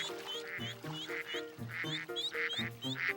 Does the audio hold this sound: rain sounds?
no